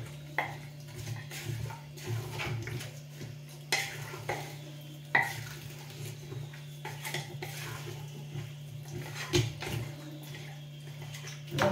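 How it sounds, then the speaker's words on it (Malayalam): A spoon stirs a tapioca (kappa) biryani mixture in a metal pot, repeated scraping clinks and knocks in an irregular rhythm over a faint sizzle, close and clear. "എന്നിട്ട് ഞാൻ ഇവനെ നന്നായിരുന്നു ഇളക്കും."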